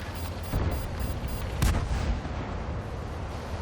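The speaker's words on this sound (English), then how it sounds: "And I'm just taking shots hoping to hit him." Tank cannon fire from a Turan III in World of Tanks on the Ruinberg map, with dense rumbling booms and a sharp blast near the middle over continuous battle noise.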